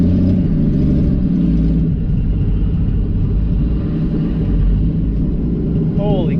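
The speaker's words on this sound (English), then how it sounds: "It sounds like a ugly race car." A Pontiac Ventura, running and driving for the first time in 40 years with no front end on it, gives a deep, rough rumbling engine note that stays loud and steady throughout, with a voice briefly over it near the end.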